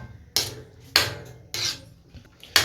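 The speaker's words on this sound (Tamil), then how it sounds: "கைவிடாமல் நல்லா கிண்டி விட்டுக்கிட்டே இருக்கேன்" Tirunelveli halwa is stirred in a pan, with four sharp, evenly spaced knocks and scrapes of a utensil against the vessel about every half second, close and fairly loud over a quiet background.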